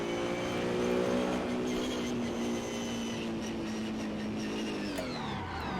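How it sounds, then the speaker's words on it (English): Simulated car engine in Assetto Corsa during drift practice at Long Beach, a steady droning rev holding loud and continuous with layered harmonic whine, shifting pitch slightly toward the end. "It is crazy how much this car sounds like my real car."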